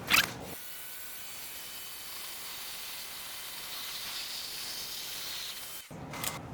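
Steady hissing water spray rinses a car wheel for several seconds, preceded and followed by brief bursts of sharper spraying, with no talk.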